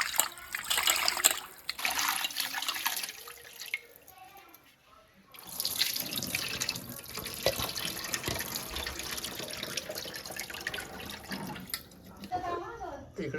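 Freshly caught scaly fish are washed in water with salt and spices added, splashing and pouring nearby in bursts with a short quiet pause, and voices can be heard faintly in the background.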